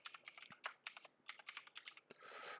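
Rapid typing on a computer keyboard, with close, crisp key clicks in irregular bursts and short pauses, ending in a brief steadier clatter.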